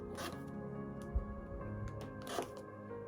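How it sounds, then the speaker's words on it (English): Fabric sliced into one-inch squares with a rotary cutter against a ruler, short zipping strokes repeated a few times at close range over a low steady background hum. "And I can just go down and keep cutting until I have my 12 1 inch squares"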